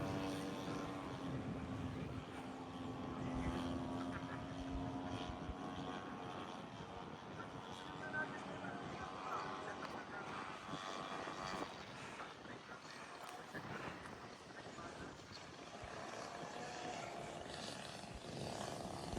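Steady engine drone and rushing air fill the cabin of a landing plane, heard from inside, with a tonal hum early on and a continuous loud roar throughout; faint voices may sit under the noise.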